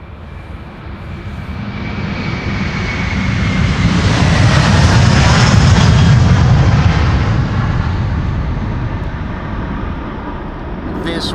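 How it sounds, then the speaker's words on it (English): Delta Air Lines Airbus A330 taking off from Amsterdam Schiphol, its jet roar building from a distance, peaking loudly mid-way, then easing off as the aircraft climbs away. "This was Delta Airlines A330"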